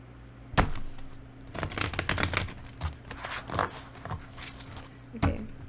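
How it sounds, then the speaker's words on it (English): A deck of tarot cards being shuffled by hand in several riffling bursts, close and fairly crisp, with short pauses between rounds and no talking. "let's shuffle this deck first"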